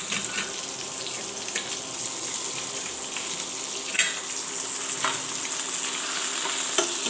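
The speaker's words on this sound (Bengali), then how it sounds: "এই যে আমি এখন পেঁয়াজ কুচানো দিয়ে দেবো।" Chopped onion goes into a pan where fish is already frying, giving a steady, close sizzle with occasional sharp clinks of a spatula against the pan.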